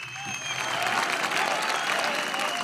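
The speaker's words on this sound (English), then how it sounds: "Let's give a round of applause for him again." A crowd applauds steadily at a Hrant Dink commemoration, dense clapping building and holding loud for a few seconds, with faint voices and a brief whistle-like tone in the mix.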